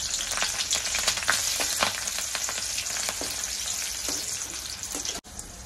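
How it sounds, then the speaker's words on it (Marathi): Green chillies fry in hot oil for a crispy sabudana chivda, giving a dense, continuous close sizzle with a few crackles and stirring sounds. "मिरच्या टाकून घेते, तळून घेते।"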